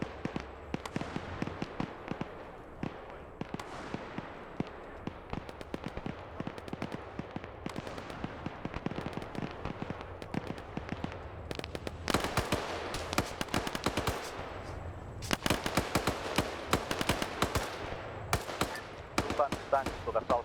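Tank and gun fire in a military video game battle, dense rapid crackling shots and bursts over twenty seconds, intensifying into heavy volleys midway and near the end.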